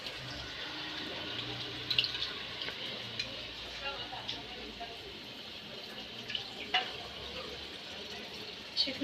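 Water runs steadily from a tap over chicken being washed in a sink, a faint continuous wash broken by small clinks and splashes.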